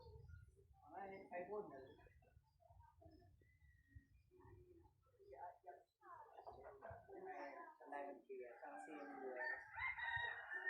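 Rooster crowing outdoors in rural Thailand amid someone talking, the calls rising and falling in drawn-out bursts, fairly faint and mixed with the speech.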